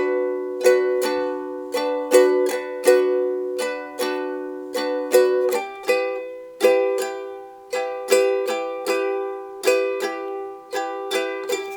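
A ukulele strums the chords of a song slowly. Bright, even downstrokes ring close and alone at a steady pace.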